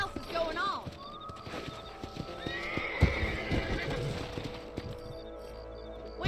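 Horses in a Western video game whinny and snort while hooves clip-clop in a loose walking rhythm, close and clear, with a heavier thump midway and speech and game sounds mixed in.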